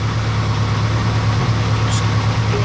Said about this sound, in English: you can hear me over the engine, it's kicked in now